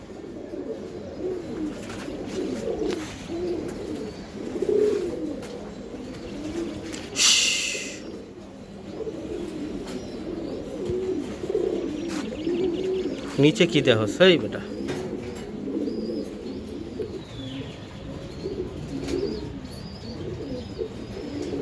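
A pair of high-flying Giribaz-type pigeons at a farm coo and burble continuously nearby, with a brief flutter of wings midway and someone talking over them.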